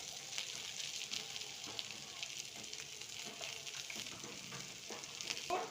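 Garlic and ginger paste sizzles in a pan while being stirred, giving a continuous close hiss of frying with light scraping and tapping from the stirring utensil throughout.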